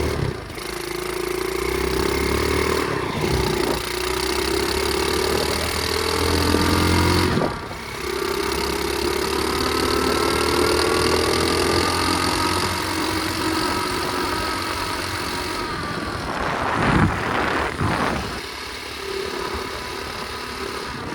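A cold 2004 Flywing pit bike engine idles while warming up, a steady, close mechanical chug with a couple of brief dips and a small rev near the end.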